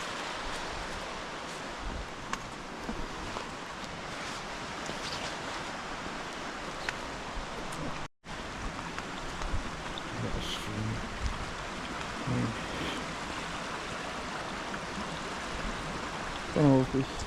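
A river running beside a woodland footpath on a walk to Nant Mill, a steady broadband rush of flowing water filling the whole clip with faint rustling on top and a brief dropout midway.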